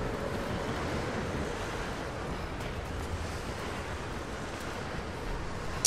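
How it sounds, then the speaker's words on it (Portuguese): Strong wind roars in the 2013 video game Tomb Raider, a steady full-bodied rushing gust with a surf-like wash, holding level throughout with a faint click near the end and no speech. "Nossa senhora, que vento, cara."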